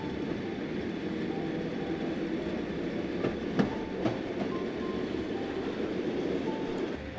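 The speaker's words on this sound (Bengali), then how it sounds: "কিছুক্ষণ পর ট্রেনটা হুইসেল বাজিয়ে স্টেশনে ঢুকল।" A train runs along its rails with a steady, dense rumble and faint clickety-clack, close and continuous throughout, broken by a couple of brief metallic clicks midway.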